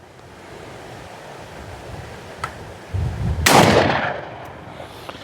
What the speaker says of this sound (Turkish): Şimdi bunu 36 metreden atıyorum.